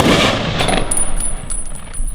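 Ceremonial rifle volley at an outdoor Memorial Day ceremony in Amery, a loud sharp crack of blanks that decays into a long echoing rumble, with fainter reports following.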